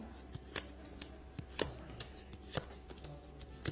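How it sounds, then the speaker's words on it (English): Tarot cards being shuffled during a psychic reading, giving a series of short, crisp riffling and tapping bursts spaced irregularly over a faint steady background hum. "just moving through the cards now as I shuffle them"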